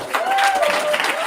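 A live audience applauds a gospel choir at a New Orleans performance, steady dense clapping with crowd noise filling the short burst, with faint whistling tones sliding through.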